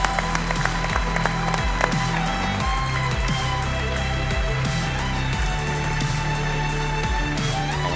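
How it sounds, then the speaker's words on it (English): At the Rolex Annika Major Award 2016 ceremony, an audience applauds the bronze medal winner from China, steady scattered clapping under a steady background hum and sustained tones. "So please, a round of applause"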